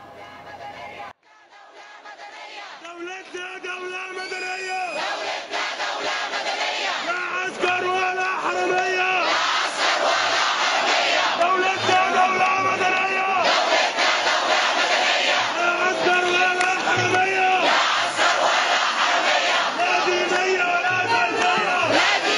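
Large crowd at Tahrir Square in downtown Cairo during the 2011 revolution, roaring and chanting together in loud, sustained waves of massed voices with rhythmic rises and swells.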